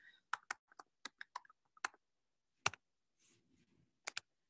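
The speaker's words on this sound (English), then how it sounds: "because I start typing in Baldwin Fields" Someone types on a computer keyboard while entering a place name into a map search: a sparse run of quiet, close key clicks in short irregular bursts separated by pauses, with no talking.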